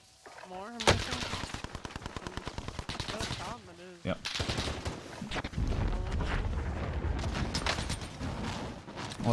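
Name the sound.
gunfire in Call of Duty Cold War video game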